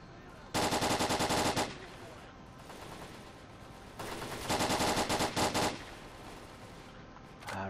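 Bandits in S.T.A.L.K.E.R. unleash loud bursts of automatic gunfire, two long heavy volleys with shorter cracks between them, close and intense.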